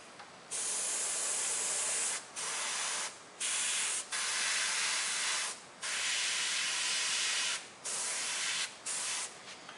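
Black spray paint hissing from an aerosol can over a stencil in bursts of steady spray separated by short pauses, close and fairly loud, with no talking.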